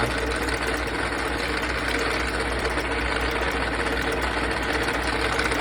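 A running engine idles with a steady, continuous drone and a fine mechanical rattle, close and unchanging throughout, with no voices.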